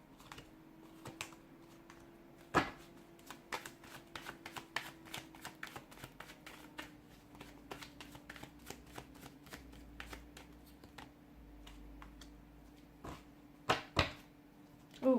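Tarot cards shuffled in steady, fast riffles and cuts, a string of crisp papery ticks and slaps close by, with a few louder snaps near the start and end, no voices.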